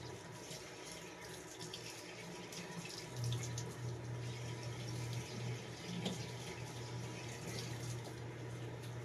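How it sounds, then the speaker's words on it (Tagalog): Moringa leaves rinsed under a running tap before being stripped, a steady continuous splash and gurgle of water with a low hum underneath, fairly quiet and without talk. "Siyempre, hugasan muna natin bago natin himayin."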